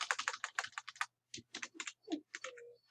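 Keys clatter on a computer keyboard as a name is typed, with quick close clicks in short bursts separated by brief pauses.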